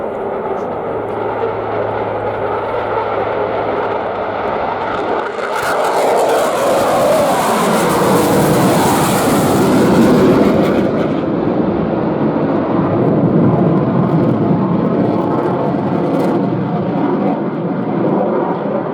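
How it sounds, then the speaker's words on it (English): Austrian Eurofighter Typhoon fighter jets launching at an air show, a loud rising roar of jet engines that swells into a sustained thunderous blast and holds to the end. "the unidentified aircraft is approaching and the Typhoons are ready for launch"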